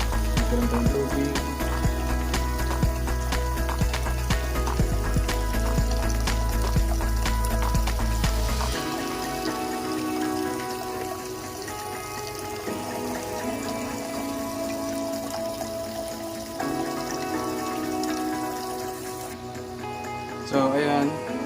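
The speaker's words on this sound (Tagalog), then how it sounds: "Lagyan tayo ng tubig." A large monster-fish aquarium tank fills with water, a loud steady rush and splash that shifts and softens partway through as the level rises.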